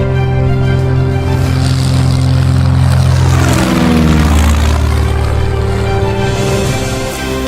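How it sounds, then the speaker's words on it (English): A WWII naval piston-engine aircraft flies low over Charlestown, Rhode Island, in 1943 during carrier-landing practice. A loud, steady propeller drone fills the scene and swells into a sweeping overhead pass midway before settling back to a constant roar. "the roar of powerful piston engines can be heard overhead as naval aviators practice aircraft carrier landings"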